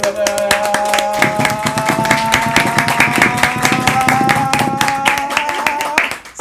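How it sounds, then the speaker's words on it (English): An audience claps steadily for a man at a lively talk-show style event, dense continuous applause right up close, with a sustained musical tone running underneath until it stops near the end. "Y'all clap up for him, clap up for him."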